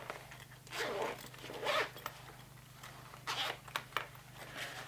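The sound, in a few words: zipper being opened on a backpack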